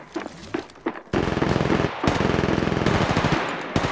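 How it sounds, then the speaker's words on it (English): Sustained automatic gunfire in the battle royale game Apex Legends Mobile rattles loud and close in long rapid bursts, preceded by a few scattered single shots. "Getting shot at."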